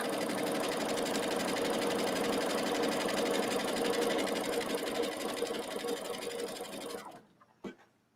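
A sewing machine stitches a fabric face mask wrap with a fast, even, close mechanical whir. It runs steadily for about seven seconds, then stops, leaving a faint click or two.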